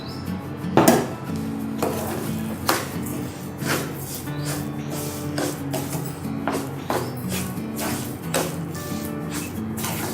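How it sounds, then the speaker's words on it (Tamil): A spoon stirs and scrapes bread halwa with sugar in a pan, giving repeated clinks and knocks at an uneven rhythm over a soft sizzle with faint background music. "நல்லா கிளறி விட்டுக்கினே இருக்கணும், இல்லைன்னா அடி பிடிக்கும்."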